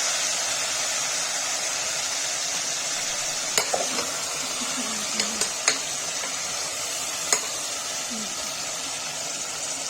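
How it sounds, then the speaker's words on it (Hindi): Steady frying sizzle of radish greens in oil in a pressure cooker fills the clip, with a few sharp clicks and clinks of a utensil against the pot. "देखिए मूली भून रहा है"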